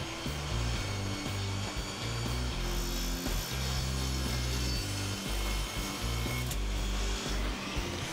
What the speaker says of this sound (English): I trimmed the sides flush at the table saw.